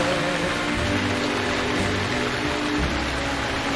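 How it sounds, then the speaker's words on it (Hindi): Heavy rain pours steadily in Lahore, a dense, continuous wash of falling water spattering on surfaces, loud and unbroken throughout with no voices. "बरसते बादलों ने हर मंजर भिगो दिया।"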